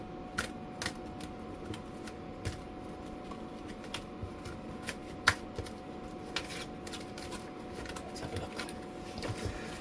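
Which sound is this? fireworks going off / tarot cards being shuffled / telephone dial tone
tarot cards being shuffled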